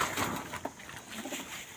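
Pigeons in a new breeding house give soft, low cooing calls, several murmured coos overlapping faintly against a quiet room background.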